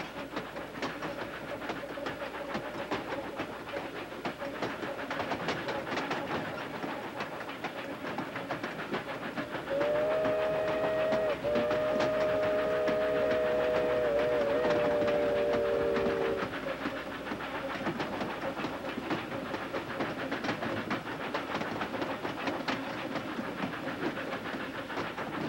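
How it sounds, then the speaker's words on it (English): An ET&WNC narrow gauge steam train on the Tweetsie line rolls along with a steady rumble and clatter, and a sustained whistle blast sounds partway through over the running noise. "The train crosses the Valley Forge Bridge."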